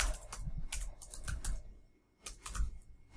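Fingers tap quickly on a computer keyboard in bursts of close, crisp keystrokes, separated by a short pause before another rapid run of typing; no voices are heard.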